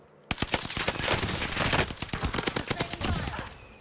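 Rapid automatic gunfire in the Call of Duty Warzone video game, a dense burst of loud close shots fired in quick succession for several seconds, with overlapping fire and no speech.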